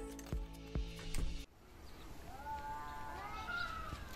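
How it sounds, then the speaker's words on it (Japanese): Cats yowling and caterwauling in the distance outdoors, drawn-out wavering cries in the second half, faint against a quiet background, preceded by a few close clinking knocks. "遠くの方で猫は喧嘩してますね。"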